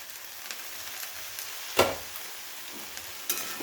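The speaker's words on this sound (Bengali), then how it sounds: "এগুলোকেও হালকা নাড়াচাড়া করে ভেজে নেব" Potatoes, carrots, peas and beans being stir-fried in a pan for a Bengali paneer and vegetable curry, giving a soft steady sizzle with a few brief louder stirring scrapes, close and alone.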